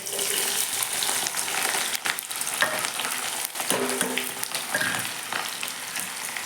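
Onion frying in hot oil with cumin and mustard seeds, a loud, close, continuous sizzle with stirring scrapes and occasional pops, no voices.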